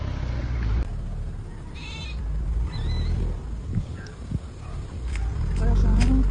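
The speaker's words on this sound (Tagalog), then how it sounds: "Ang dami mga goat." Goats bleat a few times in the open air of a farm campground, thin calls rising over heavy wind buffeting and people talking nearby.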